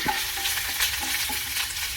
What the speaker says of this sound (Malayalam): എല്ലാം കൂടി ഞാൻ ക്രഷ് ചെയ്ത് വെച്ചതാണ് ഇതിലേക്ക് ഇട്ടിട്ട് വഴറ്റുക